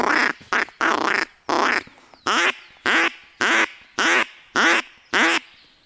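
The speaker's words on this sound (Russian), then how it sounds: "Обычно кряква крякает." A mallard duck call, or a duck, gives about ten loud, evenly spaced quacks close by, starting with a few quick ones and then settling into a steady, regular rhythm.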